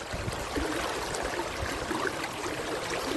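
Water rushes under pressure through an irrigation channel on a farm after days of rain, a steady, dense broadband gush that stays even and close throughout, with no voices.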